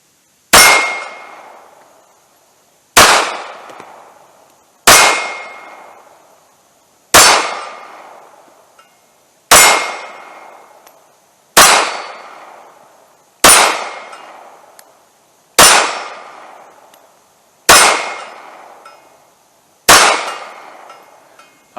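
Ten sharp shots from a Ruger .380 LCP Max pocket pistol at an outdoor range, each loud crack ringing briefly, spaced about two seconds apart in a steady rhythm with no talking.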